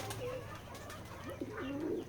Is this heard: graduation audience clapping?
no